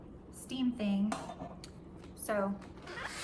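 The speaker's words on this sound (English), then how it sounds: "My pots and pans that I use every day, my strainer." Everyday kitchen pots, pans and a strainer being handled during a kitchen declutter, with scattered clanks and clatters mixed with a person talking nearby.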